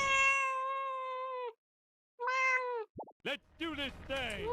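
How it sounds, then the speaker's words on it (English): A cat gives two long, drawn-out meows close by, separated by a short silence, after which voices and other brief sounds take over. "That is the cat."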